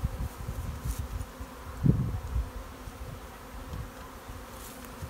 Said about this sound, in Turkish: şimdi arıyı içeriye toplamamız gerekiyor